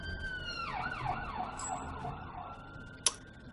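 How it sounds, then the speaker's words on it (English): Emergency vehicle siren wailing outside, its rising and falling tone sweeping repeatedly at moderate distance, with a brief sharp click near the end. "Sorry, sirens."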